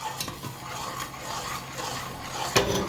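Stirring a Trinidad-style spicy macaroni pie mixture in a pot over low heat, a steady scraping swirl with occasional metallic clinks of the spoon against the pan, close and fairly quiet, no talking.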